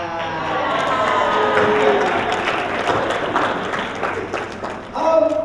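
Audience applause at the 2015 ALANI awards ceremony, a loud, dense wash of clapping and some cheering that runs steadily throughout and swells again near the end.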